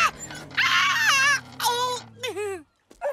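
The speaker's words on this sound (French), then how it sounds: "Mais c'est qui ce gentil chien d'amour?" A cartoon dog whimpers and whines in high, wavering, pitch-bending cries, with several drawn-out moans and a final short yelp after a brief silence, close and loud.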